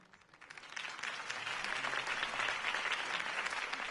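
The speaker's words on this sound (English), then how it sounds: "could have heard that applause" Applause from a large crowd in Batman: The Telltale Series swells in and holds steady, a dense wash of clapping that sounds distant and full.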